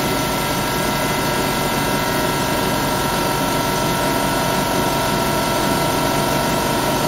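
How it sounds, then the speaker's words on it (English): An air compressor supplying air assist to a Thunder Laser Nova 35 100W laser cutter runs steadily at close range, a continuous even mechanical hum with a fine high whine and no talk. "So you notice it's on high pressure cut, and the air compressor's just cut in."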